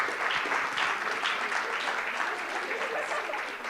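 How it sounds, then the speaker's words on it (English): Audience at a board of education meeting giving a big round of applause to congratulate student singers, loud steady crowd clapping that fades slightly near the end. "Let's give them one more big round of applause"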